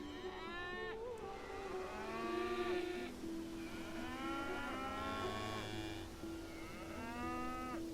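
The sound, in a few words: cows mooing in video game Songs of Syx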